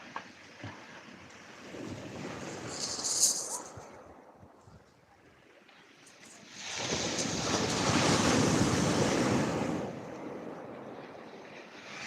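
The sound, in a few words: sea waves on the beach at Lyme Regis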